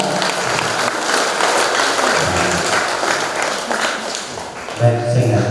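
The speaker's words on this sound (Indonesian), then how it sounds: "tepuk tangan untuk mereka berdua" Guests at a Catholic wedding clap for the newly married couple, producing a continuous wash of applause that holds steady throughout, with voices mixed into the crowd noise.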